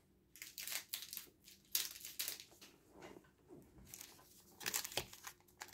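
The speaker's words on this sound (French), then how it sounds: "on va aller ouvrir trois autres paquets." Booster packs for the One Piece card game are torn open and handled at close range, giving irregular bursts of crinkling foil and crackling paper separated by quieter pauses, with no speech.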